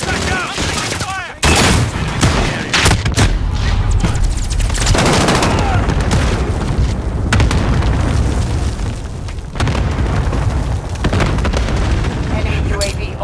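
Gunfire in the video game Modern Warfare: loud, dense automatic bursts and booming shots layered over game chatter and radio callouts, nearly continuous and close throughout.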